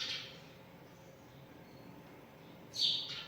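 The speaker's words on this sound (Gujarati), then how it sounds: "જો કેવી ચકલી કાચમાં" A sparrow at a window glass gives two brief, bright chirps, one at the start and one near the end, with quiet room tone between.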